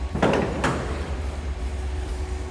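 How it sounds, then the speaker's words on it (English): A single solid thunk of a 1955 Ford Thunderbird convertible's door shutting near the start, followed by a steady low engine idle rumbling underneath. "door closes nicely"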